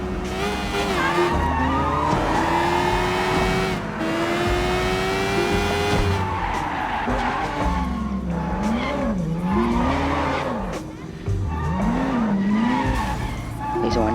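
Engine roar and tire squeal from a police chase in the video game Sleeping Dogs Definitive Edition, loud and continuous, with rising and falling revs and skidding swoops throughout; someone talks over the action.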